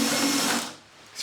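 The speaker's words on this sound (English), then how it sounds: "We'll then just take the step drill bit and we'll just elongate the hole" A step drill bit elongates a hole in a UPVC door, giving a steady, close whirring grind for about half a second before winding down, followed by a faint brief scrape.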